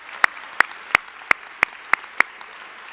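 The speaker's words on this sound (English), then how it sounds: "a round of applause to both of them" A few hands clap slowly for speakers at a high school graduation ceremony, about seven sharp, separate claps spaced roughly evenly against a quiet room.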